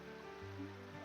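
A monsoon-season stream of rainwater in a Konkan village runs with a steady, continuous rushing and babbling, moderately close and even in level throughout, with no voices.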